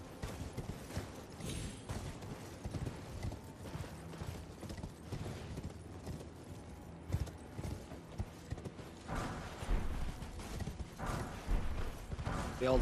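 Horse hooves galloping in Elden Ring as the horse is ridden across lava, a steady rapid clip-clop running throughout under game ambience and effects.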